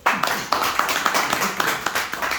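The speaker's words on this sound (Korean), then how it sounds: "박수 한번 쳐주세요." A small group claps during a golf lesson, a short, close run of uneven handclaps with several distinct sharp strikes.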